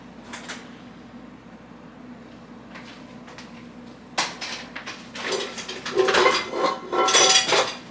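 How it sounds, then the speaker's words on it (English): A cast iron skillet and a bottle of canola oil are handled in a home kitchen: quiet at first, then a burst of clattering metal and knocks from cookware being set down and moved, close and loud, with no voices. "I am going to get my cast iron skillet and my oil here."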